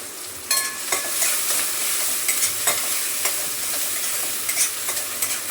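Onion and tomato sautéing in a pan for a fried cauliflower vegetable dish, a steady close sizzle broken by scraping stirs of a spoon at irregular intervals, with no voices.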